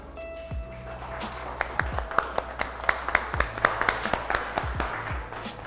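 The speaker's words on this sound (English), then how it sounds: "So please put your hands together for Chef Shreya." A studio audience gives scattered, fairly faint applause for a chef being introduced, with distinct individual claps rising and falling over a low steady hum.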